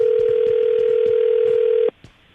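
A telephone dial tone sounds as a call is placed, one steady continuous tone lasting almost two seconds before stopping suddenly, leaving near silence.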